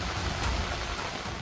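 Heavy monsoon rain pours steadily in Gujarat, a dense, even hiss of downpour with no gaps, loud and close throughout.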